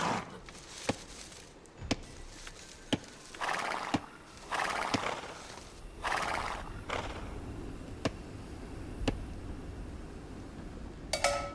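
In Age of Empires II, a scout's horse neighs and trots, with regular clip-clop hoofbeats spaced about a second apart and several whinnies, heard alone without talk.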